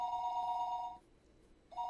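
Telephone ringing in the Higurashi When They Cry: Watanagashi video game, an electronic bell tone sounding for about a second, pausing briefly, then starting again, clear and fairly close.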